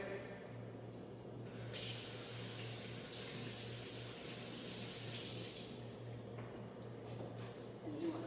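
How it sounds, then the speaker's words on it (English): Hands are rinsed under a running kitchen tap while salmon is prepared for a grill pan. The water makes a steady, fairly quiet stream that rises and falls as the hands move through it, over a low hum. "I'm going to rinse my hands real quick."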